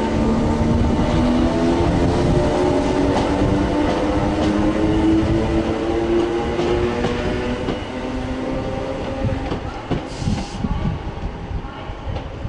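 A Class 319 electric train at Manchester Piccadilly, bound for Manchester Airport, rumbling loudly and steadily nearby with a rising motor whine and rail noise, easing slightly toward the end.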